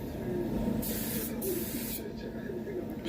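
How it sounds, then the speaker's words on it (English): Steady broadband hiss of a paint spray gun at about 2 bar, full fluid and full fan, painting a Peugeot 308 bumper and wing, loud and close, with bursts as the trigger is pulled; a low hum beneath. "Spraying about 2 bar, full fluid, full fan on this guy."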